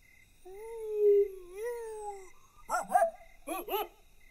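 A man imitates a dog barking as a signal, with two quick clusters of gruff, bark-like yelps near the end, preceded by a whining, dog-like vocal whimper; the voice is close and fairly loud.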